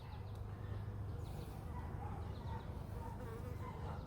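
Honey bees buzzing around an opened hive during a two-week inspection, a dense, continuous drone of many bees close by, with a few brief faint clicks and no talk.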